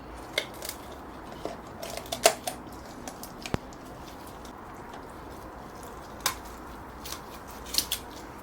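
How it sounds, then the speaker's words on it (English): Poultry shears snipping down either side of a whole chicken's backbone to spatchcock it, heard as scattered sharp crunchy clicks and snips at irregular intervals, fairly quiet against a soft room background with no talking. "cut down either side of the backbone. You can use a knife. I use poultry shears."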